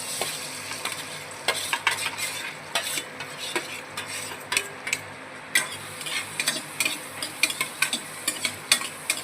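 Onions, about four large ones, frying in oil with asafoetida in a pan, stirred with a spoon: a steady sizzle under repeated sharp scraping and clinking strokes, close and fairly loud, with no talking.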